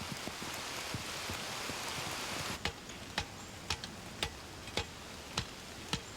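Steady light rain patters throughout, joined halfway by a series of sharp, evenly spaced drips or taps standing out above the soft hiss.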